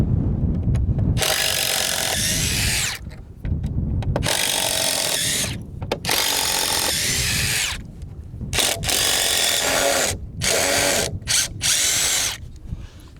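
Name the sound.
power drill unscrewing screws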